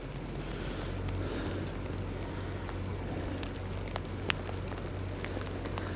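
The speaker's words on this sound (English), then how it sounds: "Oh, we've got hail coming down now." Hail falling outdoors, a steady dense hiss of pellets with scattered sharp ticks and a low rumble of wind, constant throughout.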